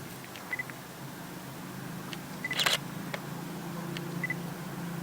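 A camera shutter snaps several sharp, separate clicks while photos are taken in a cemetery at night, with a faint steady hum underneath.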